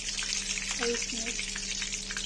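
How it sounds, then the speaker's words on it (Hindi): Eggplant frying in hot oil for a Kashmiri paneer and eggplant curry, a dense continuous sizzle with a low steady hum beneath and a couple of brief tonal squeaks in the middle. "फ्राई हो जाएगा तो बैगन फ्राई करेंगे।"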